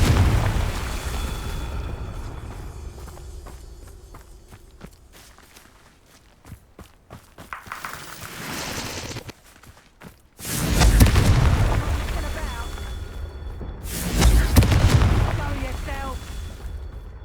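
Confringo blasting spells burst in Hogwarts Legacy, two loud booming explosions, the first a sharp onset with a long rumbling tail and the second close behind, following quieter footsteps and faint game ambience.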